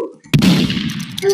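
A single gunshot in the Roblox game Murder Mystery 2, a sharp close blast followed by a short rumbling tail, with a brief bit of game sound before it.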